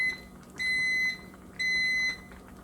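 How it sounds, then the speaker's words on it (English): A microwave beeps twice, two even electronic tones about a second apart, clear against a quiet kitchen. "The microwave is going."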